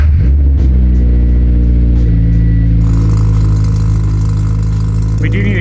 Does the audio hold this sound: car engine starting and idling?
yes